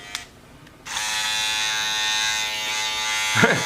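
Cordless Babyliss Gold FX hair clippers switch on with a click and hold a steady, bright motor buzz close by, faintly changing pitch near the end.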